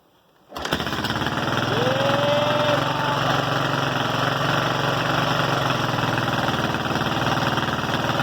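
A Yamaha XT motorcycle with the choke on is kicked over and its single-cylinder engine catches abruptly, then runs on at a loud, steady, slightly knocking idle close by.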